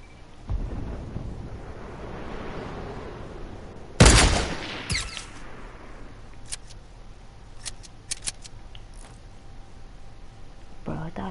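Gunfire in a video game: one loud, sharp burst of shots followed by a few scattered quieter cracks and clicks over low background noise.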